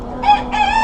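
A rooster on a farm lets out a short, loud, close crow, its strained call breaking into two quick segments within a second.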